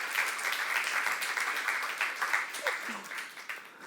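Church youth congregation clapping hard during a sermon, a loud, dense roll of applause that holds steady and then thins out slightly toward the end.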